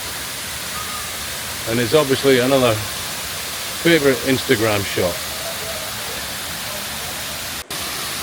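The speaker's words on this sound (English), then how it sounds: "I hope you can hear me over the water." A man-made waterfall in KLCC Park, Kuala Lumpur city centre, roars as a constant broadband rush close by, while someone talks over the water.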